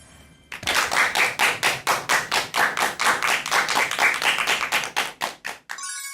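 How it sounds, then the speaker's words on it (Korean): Clapping to welcome a lecturer on stage: strong, evenly spaced claps in a steady rhythm, about four per second, close and loud, beginning abruptly and stopping short. "큰 박수 부탁드립니다"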